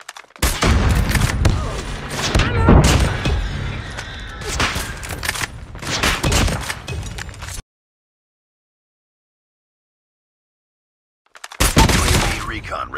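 Bomb explosions and heavy gunfire in Call of Duty Mobile, loud close bursts of blasts, shots and shattering debris, cut by several seconds of silence before the barrage resumes.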